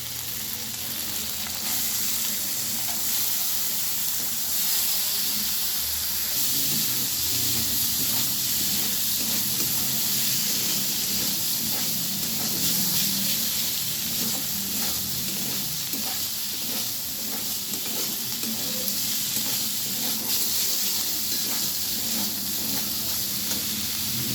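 Loud continuous sizzle and hiss after soaked chana dal goes into spices already fried with tomato paste in a pan, steady frying noise with occasional stirring scrapes throughout, no voices.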